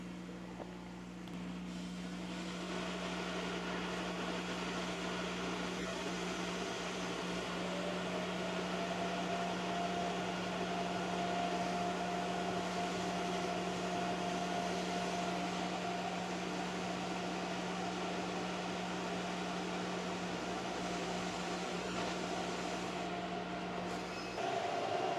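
A Thunder Laser Bolt laser cutter runs a job, giving a steady, quiet mechanical hum with a constant fan-like drone and a low sustained tone that keeps going without pause.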